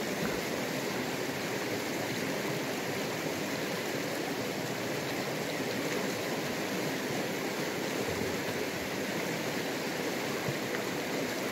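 Steady rushing of a river stream on a trout farm near Dullstroom, a continuous broadband flow of water that holds even and fairly close for the whole stretch, with no voices.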